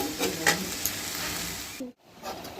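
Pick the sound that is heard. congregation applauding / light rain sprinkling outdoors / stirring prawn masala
stirring prawn masala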